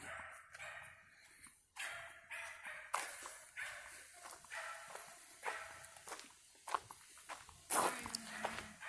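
A dog in Leolyn Woods barks and yips in a series of sharp, close outbursts, with whimpers and footsteps on the trail between the barks.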